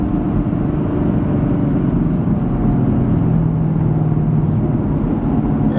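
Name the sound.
2016 Camaro SS engine driving in track mode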